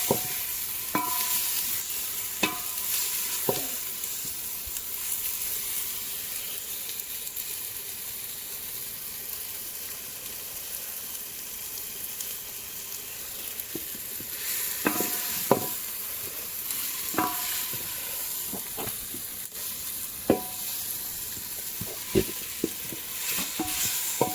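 Rice is stirred into vegetables and potato frying in a pan. A steady sizzle runs throughout, and a spatula scrapes and clinks against the pan in irregular bursts, close up, with no voices.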